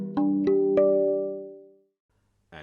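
Steel tongue drum tuned to a trance scale, with its right-side middle note included, struck three times in quick succession; the bell-like tones ring out and fade over about a second and a half before a short noise near the end.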